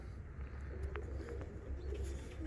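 Fancy show and costume pigeons coo softly in a loft, low rolling murmurs over a steady background hum, faint and continuous with a brief sharper sound in the middle.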